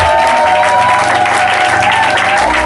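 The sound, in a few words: congregation applauding and cheering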